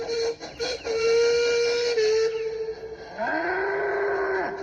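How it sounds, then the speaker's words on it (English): A steam engine whistle blows in short bursts, then one long sustained blast, followed by the deep lowing moo of a bull. "This time, Duncan whistled as loud and as long as he could."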